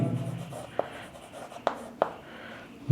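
Handwriting during a maths lesson: quiet, scratchy pen strokes broken by a few sharp taps where the pen meets the surface, spaced irregularly over a near-silent background.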